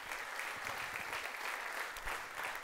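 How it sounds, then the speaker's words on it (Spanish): A church congregation applauds in a steady, dense wash of clapping, heard faint and distant, with no break through the short stretch. "Dele un aplauso a Él."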